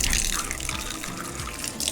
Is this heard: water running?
yes